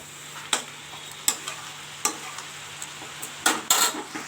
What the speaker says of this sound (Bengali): কড়াইতে চাপিয়ে দিয়েছি বাঁধাকপি